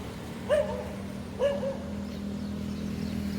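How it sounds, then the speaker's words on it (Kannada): A dog gives two short, yelping barks about a second apart, at moderate distance. A steady low hum runs underneath, and the rest of the clip stays quiet. "ನಾಯಿ ಕೂಗ್ತಿದೆ"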